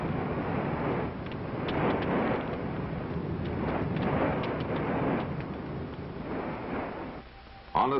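Heavy, rumbling explosions from fires in a city, heard as a continuous series of loud, muffled booming bursts with a dull, narrow-band archival quality that ease off near the end.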